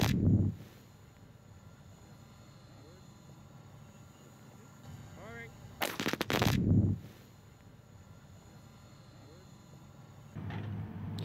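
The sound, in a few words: 128-hole blasting shot in granite for road boxing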